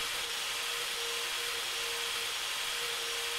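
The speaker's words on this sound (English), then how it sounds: "I'm ready to grab the drill." A drill whines steadily in a bomb defusal video game, a continuous high-pitched mechanical tone with an even hiss, constant in level and uninterrupted by speech.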